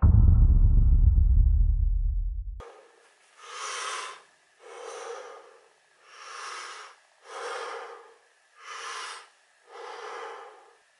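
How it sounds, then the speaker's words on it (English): A man does morning breathing exercises after waking up: after a brief low rumble, six evenly spaced, forceful breaths through the nose, each a loud close-up huff separated by short silences. "I tap in with myself and I do breathing exercises just to get a fresh start"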